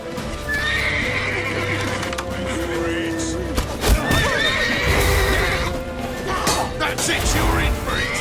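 A horse in the game The Witcher 3 whinnies and neighs amid galloping hoofbeats and crashing action sounds, loud and busy, with shouted voices mixed in.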